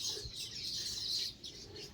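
Birds in coconut and bakul trees in a home courtyard give bright, high chirps in quick repeated bursts over a low outdoor hum, fairly close.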